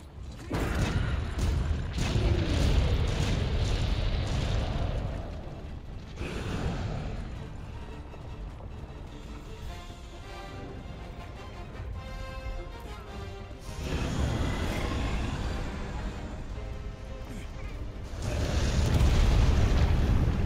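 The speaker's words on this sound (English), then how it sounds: "That was a fully loaded cannon!" Cannon blasts in Monster Hunter World erupt as heavy booming rumbles, a loud burst at the start, a quieter rolling stretch, then further deep blasts toward the end, with no talk over them.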